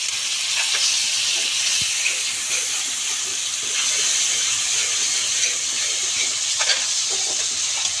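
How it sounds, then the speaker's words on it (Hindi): Chickpea masala for Lahori chikar cholay roasts in a pan, giving an even, steady frying hiss with faint occasional clinks and no talking. "अब हम इसको उस टाइम तक भूनेंगे जब तक ये अच्छी तरह से भुन नहीं जाता"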